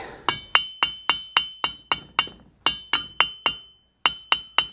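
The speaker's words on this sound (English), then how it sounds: "Let me see if it'll come off with a hammer or something." Sharp metallic hammer strikes on a Pontiac Quadrajet carburetor part ringing out in a steady rhythm, about fifteen blows with a brief pause before the last few, close and loud.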